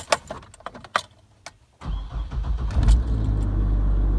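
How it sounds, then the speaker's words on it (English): Keys jingle and clink briefly, then a Chevy/GMC truck engine cranks and catches, settling into a loud, rumbling idle close by. "And the engine has started"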